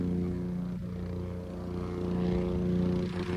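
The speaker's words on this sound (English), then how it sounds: "It does sound like a helicopter." A steady, droning engine hum with strong low harmonics from a large drone flying low overhead at night, sounding like a helicopter, continuous and fairly loud throughout.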